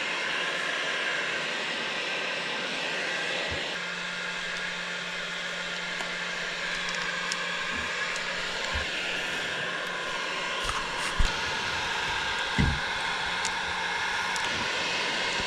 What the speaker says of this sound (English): Kind of just using the heat gun as like a stationary tool.